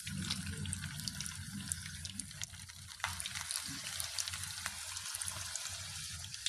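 Potato balls fry in hot sunflower oil, a dense, steady sizzle and crackle with fine popping throughout, close and fairly loud, with no talking.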